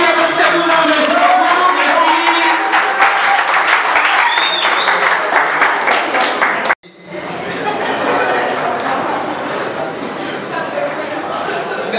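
A live audience gives loud, sustained applause mixed with chuckles and crowd voices. The clapping cuts off abruptly midway, then a second wave of clapping and murmuring follows at a slightly lower level.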